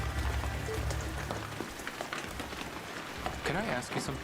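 Rain falls steadily in the video game Shenmue III, a soft, constant patter across the whole scene while voices talk over it.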